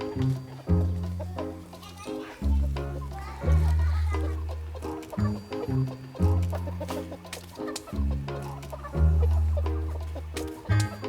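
Chickens cluck as they are fed freshly pulled weeds, their calls running through steady background music while people talk over them.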